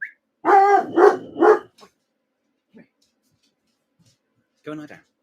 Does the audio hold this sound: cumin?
no